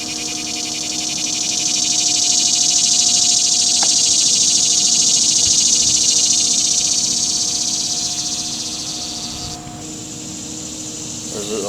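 Honeybees buzzing in a steady, dense drone throughout during a hive cut-out, close and continuous, swelling slightly then easing, with a brief soft thump near the end.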